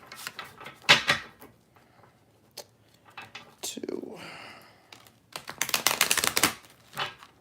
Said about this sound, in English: after 2 shuffles, let me get them